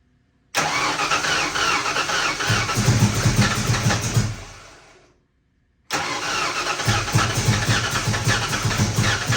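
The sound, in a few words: 1986 Ford Mustang GT engine starting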